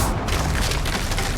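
Confringo fire spell blasting in Hogwarts Legacy gameplay, a loud, dense, continuous roaring burst lasting the whole short moment.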